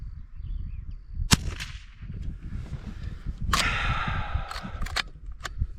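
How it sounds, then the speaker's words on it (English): Marlin 39A rifle shots fired at steel targets outdoors, several sharp cracks spread through the clip, some followed by a ringing metallic ping from the hit steel, over low wind rumble. "Shoot at some of the smaller steel over there."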